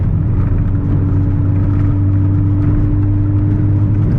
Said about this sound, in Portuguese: Barulho de escutar a troca de marcha não tem preço